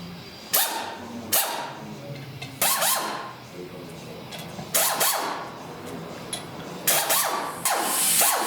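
Bolts are being removed from the rock rings of beadlock wheels on a Jeep Gladiator, with repeated sharp bursts of an impact tool at fairly even intervals, close and fairly loud, separated by quieter pauses.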